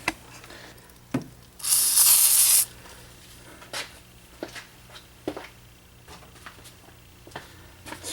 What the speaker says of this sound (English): Spray just a little silicone on there, see if it helps it come off any.